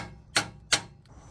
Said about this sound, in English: I use a hammer, tap it on.